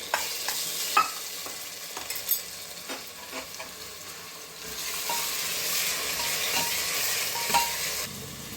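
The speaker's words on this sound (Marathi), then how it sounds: "खोबरं छान भाजून घेतलेलं आहे, तो मसाला टाकते." Roasted coconut masala with coriander, ginger and garlic tipped into a pan and stirred, giving a soft continuous sizzle with intermittent scraping stirs and light clinks, close and steady with no talk.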